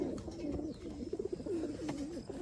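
Fancy pigeons coo in a coop, soft throaty gurgling rolls repeating close by in a steady, low murmur with faint background rustle and no talking.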